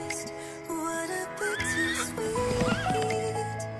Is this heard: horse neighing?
yes